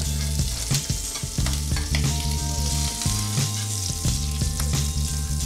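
Shrimp fry in butter in a pan, giving a close, busy sizzle with crackles and clinks of stirring, plus an intermittent low hum in the background.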